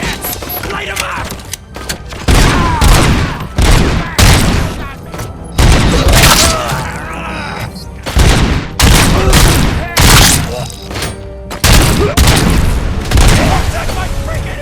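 Loud, sustained gunfire and booming blasts in the video game RoboCop: Rogue City, with rapid bursts repeating in waves over a dense wall of combat noise, with voices shouting amid the shooting.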